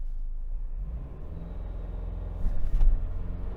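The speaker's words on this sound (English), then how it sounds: "let's go ahead and torque brake here" A 2025 Toyota 4Runner SR5 in two-wheel drive launches from a brake-torque start at night, a low engine rumble building into a sharper surge of revs near the end of the clip.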